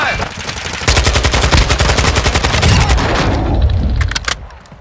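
Loud, close automatic gunfire in the video game Warzone 2.0 rattles in rapid continuous bursts for several seconds, then trails off into a few scattered shots.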